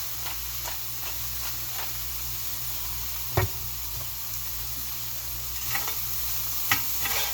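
Chicken dinner frying in a cast iron pan, with a soft continuous sizzle under a utensil scraping and stirring, plus a few sharp knocks of the spoon against the pan.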